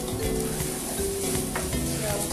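Mushroom risotto rice being stirred in a hot pan, a close, continuous sizzle with soft scraping strokes and faint utensil knocks running throughout.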